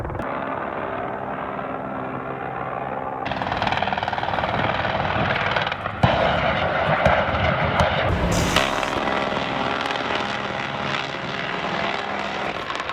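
A small MH-6 Little Bird helicopter flies, its rotor and turbine noise loud and continuous, growing more intense partway through with a brief sharper burst, heard throughout.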